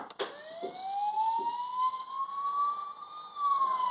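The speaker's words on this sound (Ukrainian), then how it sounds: "це поліцейська сирена" A single siren wail from a Bruder toy police siren rises slowly, holds, then begins to dip. It is moderately loud, with a few faint clicks at the start.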